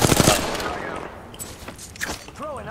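Video game gunfire crackles in a dense burst of rapid shots at the start, then thins to scattered pops and faint footsteps, with a few high electronic warbles near the end.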